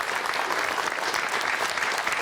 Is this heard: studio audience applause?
yes